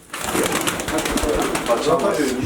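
A pigeon held in the hand during a bird contest coos in soft, repeated low warbles, close to the microphone, with background voices and handling noise throughout.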